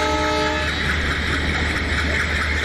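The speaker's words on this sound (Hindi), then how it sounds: "और इसका ये हॉर्न जो है आपको सुनाई दे रहा होगा भाई," A diesel locomotive horn from a WDG3A in a train simulator game sounds a steady tone for about half a second, then cuts off, leaving a loud continuous engine rumble.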